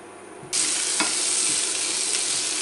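A sudden loud sizzle erupts as onions hit hot oil, then a steady close frying hiss continues with a faint stir or two.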